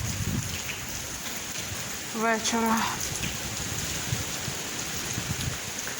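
Steady rain falls throughout on an outing fishing for pike with a spinning rod, a continuous broadband hiss with a brief spoken word partway through.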